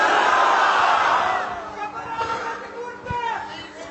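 A large crowd at a religious gathering, an ijtema, raises a loud chanted roar of slogans that fades into murmuring babble, with a voice speaking over it.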